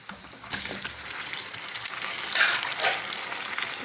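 One kilo of chicken frying with browned onions in oil for Pakistani restaurant-style karahi: a close, continuous sizzle and crackle with bursts of scraping and stirring, louder surges midway, no talk.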